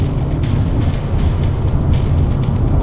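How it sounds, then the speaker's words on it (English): Hyundai Veloster exhaust on the road, a steady loud engine rumble with a string of sharp crackling pops from the exhaust spread across the whole stretch, up close and with no voices. "Got a nice kickback on the exhaust."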